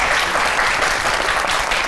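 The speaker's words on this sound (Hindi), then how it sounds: "आपका दिल करे तो ताली बजा दीजिए, वरना कोई खास जरूरत नहीं है, जनाबे ठाकुर शुजा आबादी।" A studio audience at a comedy talk show gives steady, dense applause, with the clapping even and continuous from start to finish.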